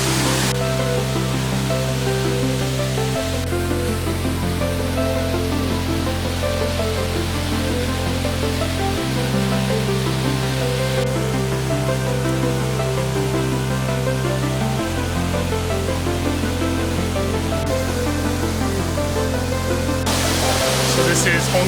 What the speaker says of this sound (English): So this is Hongye Red Leaf Waterfall.